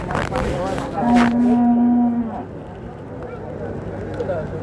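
A single long, close moo rings out from cattle at a busy cattle market, with people talking around it and crowd noise underneath.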